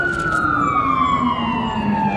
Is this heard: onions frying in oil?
no